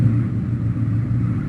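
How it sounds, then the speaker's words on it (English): Car engine sound effect from the Payday 2 video game, a short, steady low engine drone that holds an even level throughout, with no talking. "Car engine."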